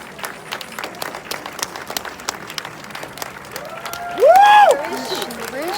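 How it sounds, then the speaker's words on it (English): Audience applause at a French film festival, a sparse patter of clapping under a brief voice, followed by a short burst of louder cheering and clapping. "So let's have a round of applause."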